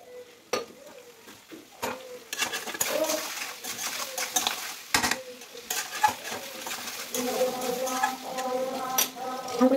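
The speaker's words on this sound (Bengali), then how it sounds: "মাছটা কষানো ভালো করে হয়ে গেছে" Fish being sautéed and stirred in a pan, with repeated scraping and clattering of a utensil against the pan over a low sizzle, fairly close and moderately loud.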